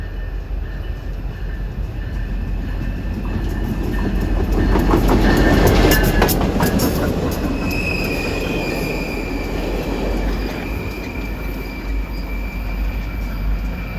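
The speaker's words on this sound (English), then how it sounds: "Track Geometry train. Here it comes." A CSX track geometry train passes on the RF&P Subdivision. Its loud rumble builds to a peak near the middle with squealing wheel tones and rail clatter, then slowly fades. No one speaks.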